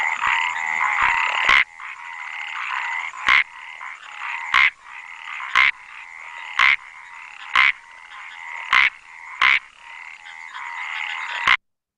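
A microhylid frog calls with a steady, buzzing trill, broken about every second by sharp, loud clicking pulses, roughly ten in a row, close and clear with no voices.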